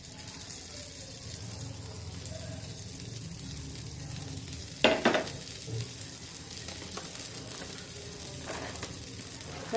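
Tomatoes go onto a pizza made on dosa batter, frying in a pan with a steady, close sizzle throughout. A brief sharper clatter cuts in midway.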